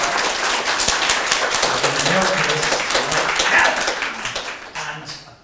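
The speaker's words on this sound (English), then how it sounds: "Round of applause, come on now." An audience at a disability conference plenary session applauds with dense, steady clapping that fills the hall and tapers off near the end, with a voice briefly heard over it.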